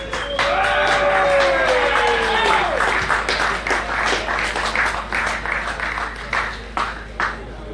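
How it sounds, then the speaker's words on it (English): A crowd applauds at a drag racing grand finals presentation, dense clapping that thins out toward the end, with a voice and a brief whistle-like tone over the start. "Just a quick round of applause"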